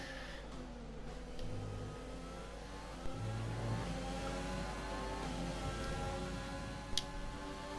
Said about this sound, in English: good exit here, putting DRS on and overtake on, trying to push Raikkonen